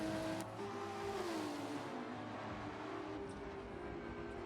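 A high-powered simulated race car in a sim racing game at Brands Hatch holds a loud, steady engine drone whose pitch sweeps down and then levels out, dense and continuous without any talk.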